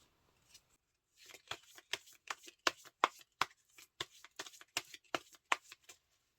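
Tarot cards being shuffled and drawn for a reading, a close run of crisp riffling slaps and flicks in an uneven rhythm after a brief quiet start, with no talking.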